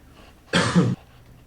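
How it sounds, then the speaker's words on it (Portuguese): A single short cough, close and fairly loud, standing alone against a quiet background. "Essa tossidinha"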